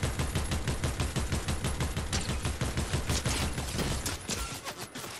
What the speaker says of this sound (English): I heard shooting, but I don't know if it was at us.